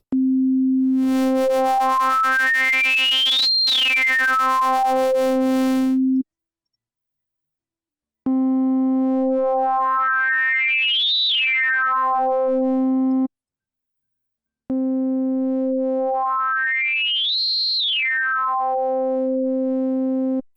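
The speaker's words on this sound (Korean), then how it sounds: "사인파의 싱크를 걸고 이 세 가지 모드를 비교해서 들려드리도록 할게요." Sine wave with hard sync in the Serum synthesizer, heard in three loud sustained passes separated by short silences, each sweeping upward to a bright peak and back down as the window modes are compared.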